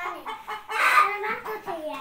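Hen clucking before laying an egg on a rural farm, a close run of repeated rhythmic clucks rising into a louder drawn-out cackle, with faint talk around it.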